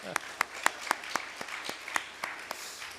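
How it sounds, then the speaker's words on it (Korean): A Korean church congregation at a Sunday service applauds the choir with sparse, distinct claps in a rough, regular beat, fairly quiet and without a full roar. "우리 박수 한번 하십시다."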